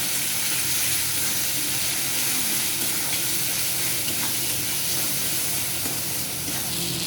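Ginger, cumin, chilli and coriander pastes fry in a pan with a loud, dense, continuous sizzle and hiss, while steady stirring scrapes under it throughout and no one speaks.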